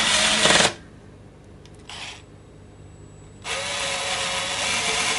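A power driver set to low torque drives a screw into a Telecaster guitar body in loud, close whirring bursts: one at the start, a brief blip midway, then a longer steady run to the end, with quiet gaps between.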